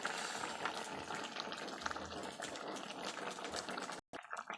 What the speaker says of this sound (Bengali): তরকারি ফুটে গেছে।